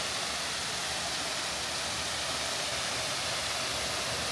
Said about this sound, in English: Very peaceful waterfall.